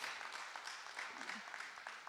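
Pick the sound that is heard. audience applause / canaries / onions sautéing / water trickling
audience applause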